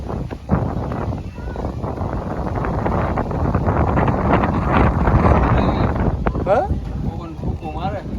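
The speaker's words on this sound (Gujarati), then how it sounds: "પવન જ ફૂકું મારે" Strong wind roars and buffets the microphone in a steady rumble in the Gir forest, with voices faintly audible beneath it.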